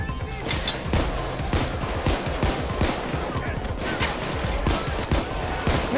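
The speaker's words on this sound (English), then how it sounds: "I shot him in the head" Rapid bursts of gunfire from a Payday 2 heist shootout against SWAT units, dense overlapping shots and automatic fire running continuously and loud throughout.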